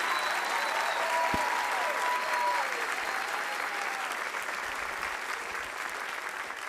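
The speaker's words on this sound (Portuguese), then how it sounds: "Uma salva de palmas para todos os nossos professores." A comedy show audience claps steadily in a broad, even wash of applause that holds at a constant level throughout, with faint whistles or cheers rising over it.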